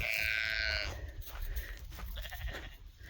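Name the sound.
sheep bleating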